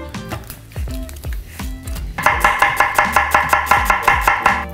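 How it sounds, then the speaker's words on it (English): A knife julienning an onion on a cutting board, a steady run of close, crisp chops speeding into a fast, even rhythm in the second half. "All right, our onion's julienned."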